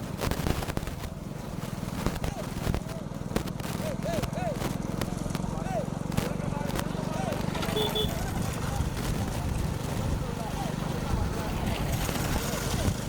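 Bulls pull carts in a small-bullock race at Vellaiyapuram, with a constant loud outdoor din of hoofbeats, rolling carts and crowd noise, and voices shouting over it throughout.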